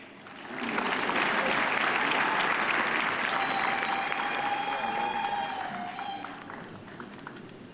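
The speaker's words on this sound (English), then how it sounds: "thank you, ladies and gentlemen, for that wonderful round of applause" Sustained audience applause at a festival event, rising quickly to full, dense clapping and then tapering off slowly toward the end, with a faint voice murmuring underneath.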